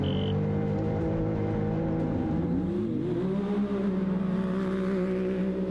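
Rally cars race through the desert of Morocco, one engine droning close and loud before its revs shift and climb sharply midway as cars jostle to overtake, a dense mechanical roar throughout.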